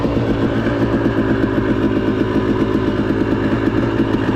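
Motorcycle engine fitted with an XTNG Gen3 Pro metering rod carburetor, idling steadily and close by with an even, rhythmic low chugging.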